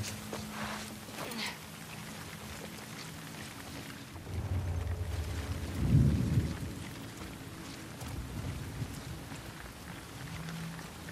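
Steady rain patters throughout in the video game The Last of Us Part II while a low rumble of thunder swells in the middle and fades, with a faint tapping of footsteps near the start.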